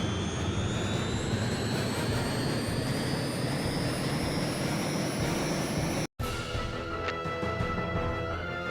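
Roaring jet engine of a Harrier in jet mode from the video game Eagle One: Harrier Attack, a loud steady whine with rising tones, briefly cut by a short gap, then continuing.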